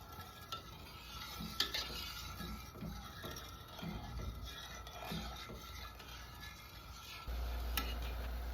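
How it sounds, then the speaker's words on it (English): A pot of brown sugar and water boils with a quiet, steady bubbling and crackle, a faint tap of a utensil breaking in now and then. "My brown sugar and water mixture is boiling, so I'm going to turn off the heat."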